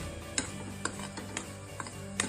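Semolina being stirred and roasted in a pan for prasad sheera, with a spoon scraping and clinking against the pan in a steady rhythm of sharp taps, five or so across the clip, over a low constant background.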